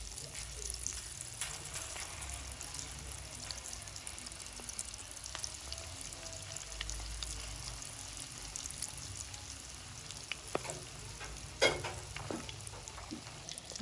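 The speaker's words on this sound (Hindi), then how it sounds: "अब हम इनको फ्राई करेंगे।" Breaded chili cheese bites fry in moderately hot oil, a faint, even sizzle with soft crackles and a few small pops near the end.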